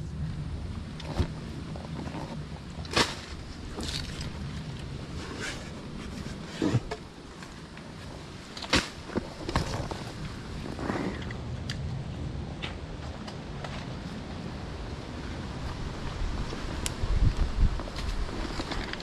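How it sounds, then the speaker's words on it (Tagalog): Strong wind blusters and rumbles across the microphone outdoors in a Quezon lansones orchard, with gusty buffeting and scattered knocks and rustles over a constant roar. "Ang lakas po ng hangin dito po."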